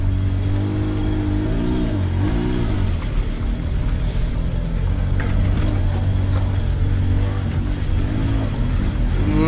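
A 2002 Hyundai Santro engine runs after a start, with its idle rising in a couple of revs early on before settling into a steady, close, loud hum.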